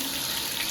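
A rain-style shower head runs water into a footed bathtub in a freshly renovated bathroom, giving an even, soft hiss of spray with no break across the short moment.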